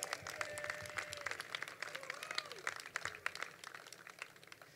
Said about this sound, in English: another round of applause for all of you.